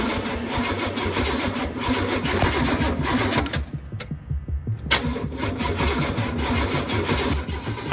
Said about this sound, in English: I cranked the motor